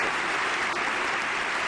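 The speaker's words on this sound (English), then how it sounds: "Look at the audience of interns, researchers and pages clapping away." An audience of interns, researchers and pages clapping, a dense steady wash of applause at close range, with no talk over it.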